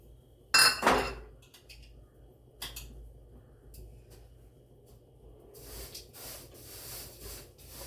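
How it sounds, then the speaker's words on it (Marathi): Sesame seeds and peanuts are mixed in a pan: a sharp clink of a utensil against the pan opens, followed by scattered light scrapes and a rustling, grainy stir toward the end. "आता हे आपलं तीळ हे शेंगदाणे आपण त्यात मिक्स करून घेऊया"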